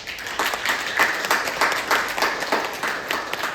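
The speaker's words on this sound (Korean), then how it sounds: "여러분 박수 한번 해주세요" A church congregation claps together in steady applause, a dense patter of many hands at moderate loudness throughout, with no talk over it.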